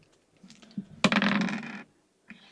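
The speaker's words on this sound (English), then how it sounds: "In Catan, you roll 2 dice." Two dice tumble and clatter close up during a Settlers of Catan board game. A few light taps lead into a bright, rattling roll that lasts under a second.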